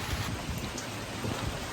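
Rain falls after a typhoon near a river, a dense, even hiss of drops with soft low patter, steady and moderately loud for a couple of seconds.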